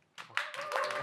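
A few hands clap at a Seoul expectant-parents education event, starting sparse and then building into a short, close burst of audience applause as a host's voice lingers beneath.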